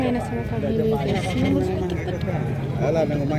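Javanese goats at a busy livestock market bleating in short wavering calls, mixed into constant crowd noise and nearby voices.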